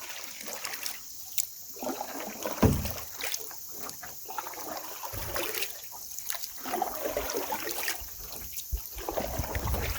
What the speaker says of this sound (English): Nothing a little bit of backwards paddling won't fix.